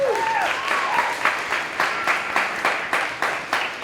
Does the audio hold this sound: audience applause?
yes